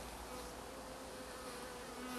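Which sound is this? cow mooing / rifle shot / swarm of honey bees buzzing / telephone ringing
swarm of honey bees buzzing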